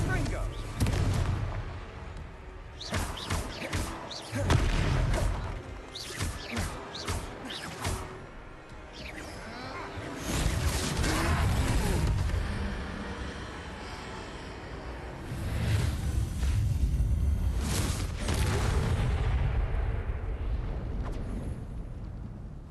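Repeated fiery spell blasts and explosions in the Hogwarts Legacy video game during a fight with a troll, loud booming bursts in quick clusters over rumbling battle noise.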